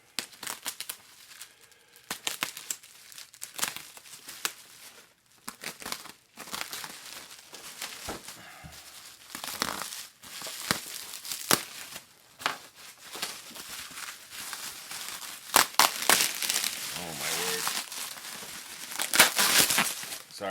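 Plastic bubble wrap and packaging are pulled off a newly delivered model car, giving irregular crinkling and rustling with sharp crackly bursts close by over about twenty seconds, with no speech.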